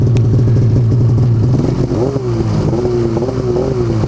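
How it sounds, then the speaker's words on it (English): A two-stroke snowmobile engine fitted with a GGB trail can exhaust idles close by with a deep, raspy, uneven burble. Pitch wavers through a slight rev near the middle, and no one speaks. "I hear that popping too, that nice two-stroke sound."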